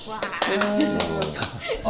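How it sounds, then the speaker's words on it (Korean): One person claps rhythmically beside hosts on a Korean talk set, a series of sharp evenly spaced claps heard close by, mixed with voices speaking over them. "우리 옆에서 지금 박수 치고 계신 분이 있는데"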